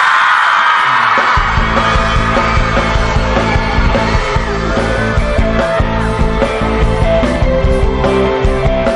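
A concert crowd at a Thai fan event screams and cheers loudly to welcome a singer onstage. The roar starts suddenly and stays sustained and dense, with music coming in underneath.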